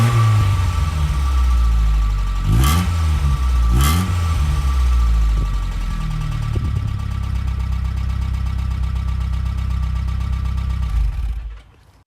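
Nissan Sunny B11 engine heard from behind the car, a steady low idle with a couple of sharp revs early on, running loud and close before cutting off at the end.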